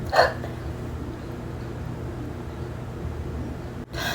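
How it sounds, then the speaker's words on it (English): A person gives a single sharp hiccup right at the start, close and abrupt. Low background hum and room noise carry on steadily afterward. "Y'all ever do those backwards hiccups in the middle of nowhere?"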